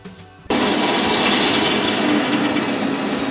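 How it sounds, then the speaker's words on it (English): Power drill pre-drilling holes in a wall for a flat-screen TV mount, starting abruptly after a brief quiet moment and then running as a loud, steady, high whine that holds without pause. "we can pre-drill"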